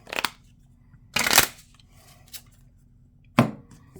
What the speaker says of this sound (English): So I'm going to shuffle everything here